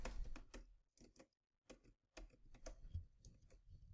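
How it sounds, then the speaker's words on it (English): Typing on a computer keyboard produces quiet, close, irregular clusters of key clicks with short pauses between bursts. "I'm just going to go ahead and I'm going to type in"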